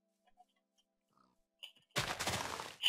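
A pig in Minecraft gives a short burst of grunting oinks, loud and close after near silence with a few faint blips of game noise.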